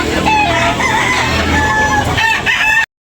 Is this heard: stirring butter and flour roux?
no